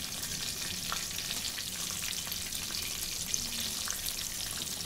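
Mirchi bajji, battered chili fritters, deep-frying in hot oil with a steady, dense bubbling sizzle and faint occasional pops, close and continuous with no talking.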